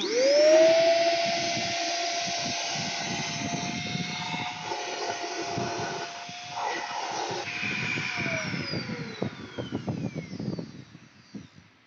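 A corded 3-in-1 handheld vacuum cleaner spins up with a rising whine, then runs with a loud steady whirring hiss that wavers as it moves, and finally winds down with a falling pitch while clicks and rustles sound close by.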